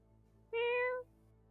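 A house cat gives a single clear, fairly loud meow lasting about half a second, standing alone against quiet room background.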